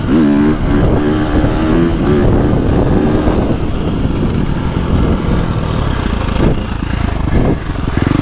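A 2025 KTM 350XCF four-stroke dirt bike engine revs and pulls hard, loud and close, with rising and falling pitch as the throttle opens, mixed with wind buffeting on the microphone.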